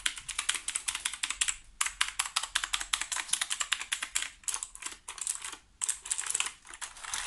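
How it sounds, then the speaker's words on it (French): Someone types fast and steadily on a heavy computer keyboard, the key clicks close and continuous with only short pauses between bursts. "le crash test du clavier pour voir s'il fonctionne"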